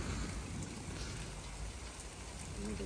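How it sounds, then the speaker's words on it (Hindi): Heavy rain pours steadily outdoors, a dense, even hiss of drops on surfaces with no talking. "बिलकुल खड़े खड़े की फिर इंतहाई तेज बारिश शुरू हो गई।"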